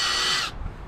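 A power drill running at slower speed cuts new threads for a broken Jeep Wrangler JK antenna mount, giving a loud steady whine for about half a second before it stops abruptly, leaving only faint low rumble.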